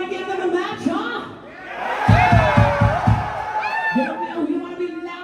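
Crowd at a heavy metal concert in San Francisco yelling and whooping in a loud, sustained roar, with shouted voices rising over it and a few deep drum hits partway through.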